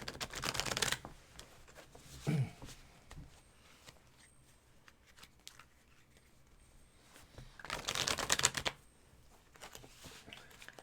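Two separate bursts of close tarot card shuffling, a riffle at the start and another later, with quiet handling sounds in between.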